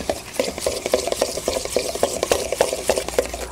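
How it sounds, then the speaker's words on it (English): A whisk stirring a lobster roll dressing seasoned with black pepper and chili powder in a bowl, a rapid, regular tapping and scraping rhythm that repeats steadily and close throughout. "We're gonna give this a quick whisk."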